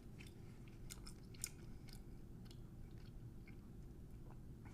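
Someone chewing crunchy food with a garlic topping, soft irregular crunches and bites close to the mic over a low steady background hum, no talking.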